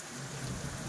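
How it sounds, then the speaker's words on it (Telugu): Heavy rain pours steadily as a dense, loud hiss with no pauses or voices. "ఇంకా ఈరోజు కూడా ఫుల్‌గా వర్షం వస్తుందండి"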